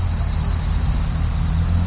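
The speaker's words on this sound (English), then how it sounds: "Confirmation with the cicadas going." Cicadas drone in a loud, unbroken buzz with a pulsing low throb, filling the air close by.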